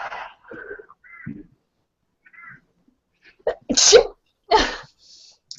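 A loud, sharp sneeze bursts out close by after a few quiet sniffs and soft murmurs, followed by a second breathy burst.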